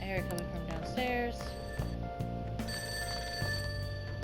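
A telephone rings repeatedly in Persona 5 Royal, a steady electronic ring from downstairs heard under a voice talking over it.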